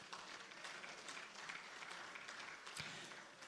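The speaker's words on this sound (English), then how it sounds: "So give yourselves a round of applause." An audience at a public service award event applauds itself, a soft, distant, continuous wash of clapping with a few sharper claps poking through.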